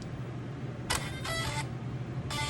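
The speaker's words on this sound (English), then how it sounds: "And then you turn the car on." A Losi Monster Jam Son Uva Digger 1/8-scale RC truck powers on with a few short, bright electronic beeps, spaced apart over faint background hiss.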